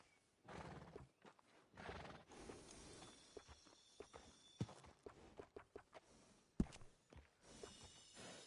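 In Red Dead Redemption 2, a horse whinnies and snorts while its hooves clop in uneven steps, with close, punchy hoof strikes and occasional mechanical tack jingles, no talk.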